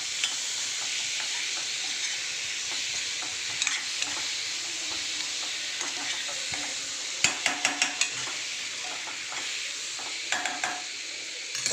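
Tomatoes and spices sizzling in a frying pan for anda masala, with a steady loud hiss and a few scraping stirs of a spoon against the pan, close and without talk.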